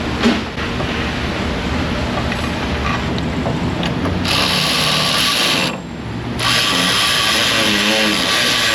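A power tool runs steadily on the bottom bolt of a car shock absorber, a loud continuous mechanical whir that briefly drops out before resuming.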